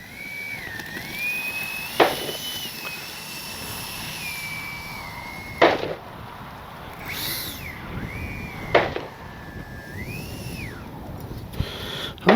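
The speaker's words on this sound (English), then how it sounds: "In case you're wondering what those explosions and everything are, there's a very active gun range right next door." Sharp gunshots and blasts from a busy gun range next door crack out about four times at irregular intervals, standing out over the steady whine of a nearby X-Fly J-65 RC jet flying on a rainy day.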